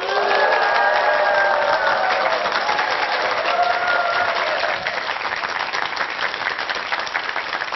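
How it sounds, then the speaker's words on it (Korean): A large audience claps warmly to welcome lecturer Jeon Mi-ok onto the stage of a televised talk. The dense, sustained applause fills the whole stretch and eases only slightly toward the end. "전미옥 대표님을 뜨거운 박수로 모시겠습니다"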